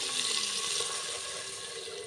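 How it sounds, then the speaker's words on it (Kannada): Water pours into a cooking pot while sambar with toor dal and tomato is being made, a constant rushing splash that stays close and even for about two seconds. "ನೀರು ಪಾಡ್ಗೆ"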